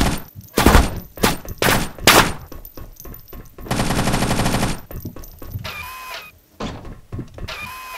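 Rapid automatic gunfire from the PC shooter Batla, with bursts and single shots, one long sustained stretch of continuous firing, then more scattered shots in loud game action.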